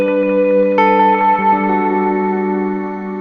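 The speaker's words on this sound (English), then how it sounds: "It's a very different sounding reverb" Guitar notes run through a Disaster Transport SR pedal's reverb, sustained tones blooming into a lush, washy tail that swells after each attack and slowly decays, close and loud with no voices.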